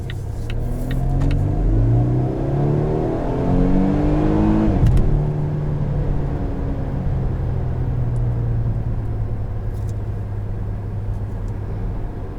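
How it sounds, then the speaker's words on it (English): A supercharged 2019 Volvo S60 T6 R-Design AWD engine revs up through rising gears with a whirring whine, builds to a peak, then settles into a steady loud drone. "You have a great induction sound too, because you have the low down sound of the supercharger"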